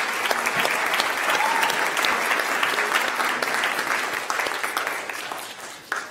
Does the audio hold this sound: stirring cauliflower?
no